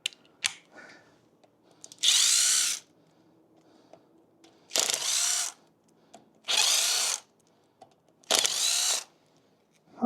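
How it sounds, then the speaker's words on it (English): Power tool removing bolts from a motorcycle engine's oil pump area, four loud, close whirring bursts of about a second each, with small clicks and handling noises between them. "let me pull those bolts out"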